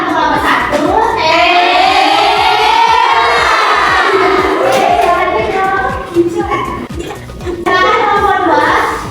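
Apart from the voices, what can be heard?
class doing the 'tepuk hebat' clapping cheer for a group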